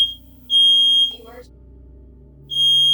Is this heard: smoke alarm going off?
yes